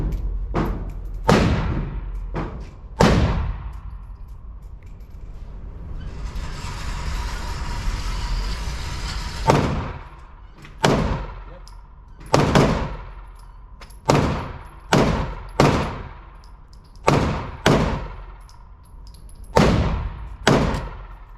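Pistol shots are fired downrange at a target 10 yards away, a sharp crack followed by a ringing tail. About a dozen sound at an irregular pace in two groups, with a stretch of rustling noise between them.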